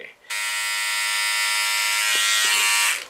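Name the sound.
Philips OneBlade electric razor shaving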